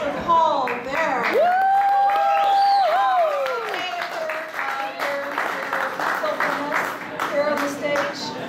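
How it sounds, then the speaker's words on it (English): Crowd applause for Paul Bearer at a stage show, a dense roll of clapping and cheering with whoops and a loud singing or shouting voice riding over it near the start. "One more round of applause for Paul Bearer."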